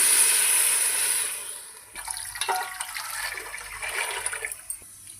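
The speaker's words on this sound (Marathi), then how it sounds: "आता यात आपण पाणी टाकून घेऊया" Water pours steadily into a cooking pot already holding ginger-garlic-coriander paste and green chillies, a loud continuous rushing that eases into softer, uneven splashing partway through, with no talking.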